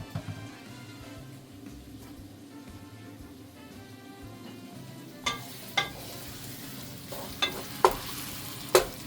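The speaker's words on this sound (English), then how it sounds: "You want to make sure the sausage gets nice and brown in here" Sausage browning in a pan gives a quiet, steady sizzle, joined later by several sharp clacks of a utensil stirring, close with no talk.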